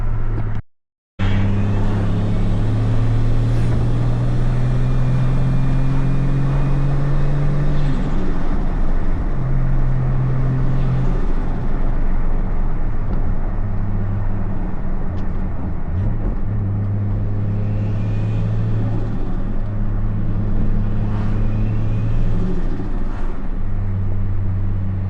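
A Ford Falcon XR6T drives along Bells Line Road toward the Blue Mountains, its engine a steady, loud drone from inside the cabin with shifting tones through the run and a brief cut near the start.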